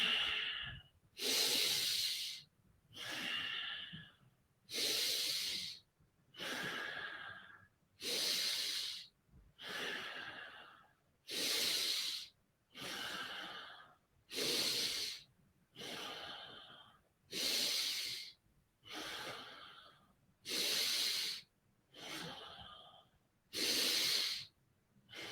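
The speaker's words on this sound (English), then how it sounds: "So nice deep inhale, fill the belly." Slow, deep yoga breaths drawn in and pushed out in a steady cycle, around a dozen long airy inhales and exhales, each swelling and fading, close and fairly quiet with no talking.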